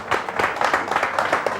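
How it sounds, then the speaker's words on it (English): Applause for a group at a sportsman's year-in-review gathering, a steady patter of many hands clapping close by, continuous through the moment. "a round of applause for the gang"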